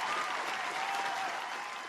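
Applause from the audience at an outdoor live podcast taping, a dense, steady wash of clapping that stays loud and even for the whole stretch, with no voices over it.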